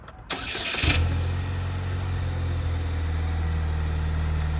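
A 2008 Pontiac Solstice with 40K miles cranks with a short starter whir, catches and settles into a steady, low idle, heard up close with no talk.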